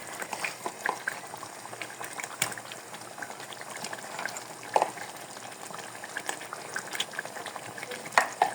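Yogurt chicken curry for achari chicken sizzling in a pot as the yogurt water cooks off, a dense bubbling fry with crackles and occasional stirring clicks, close and steady, no talk.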